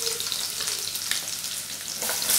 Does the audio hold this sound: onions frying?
yes